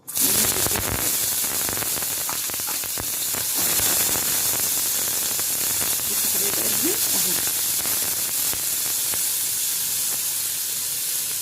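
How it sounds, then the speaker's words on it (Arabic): Chopped onion and two garlic cloves fry in melted ghee in a pan on a gas stove, giving off a loud, continuous close sizzle with crackling pops that runs steadily without pause. "معايا الطاسه كده زي ما انت شايفه على البوتاجاز، سيحت فيها حته السمنه، بصلايه صغيره خالص مع فصين توم"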